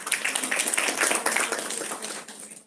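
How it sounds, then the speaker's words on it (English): Applause for Group 1's presentation at a formal meeting, a steady burst of many hands clapping close by, fading slightly toward the end. "So another round of applause for Group 1."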